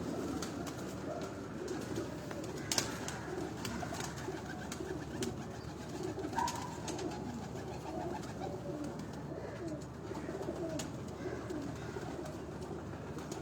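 Pigeons on a rooftop in Gulberg, Lahore coo steadily over a dense layer of bird calls that runs the whole time, with no one talking.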